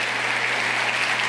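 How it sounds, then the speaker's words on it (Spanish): Steady, dense applause fills a church congregation's space after a call to praise the Lord, continuous and loud throughout with no voices over it. "Un aplauso fuerte al Señor."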